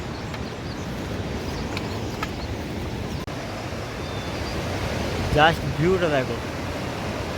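A river rushes steadily along the trekking route to Kedarnath at dawn, a continuous broadband roar filling the whole stretch while someone speaks briefly over it near the end.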